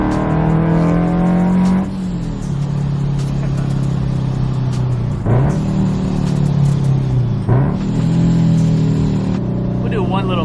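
A boosted Subaru FRS revs hard in cold weather, its engine note rising and falling in several loud surges with turbo whoosh and exhaust rumble close by.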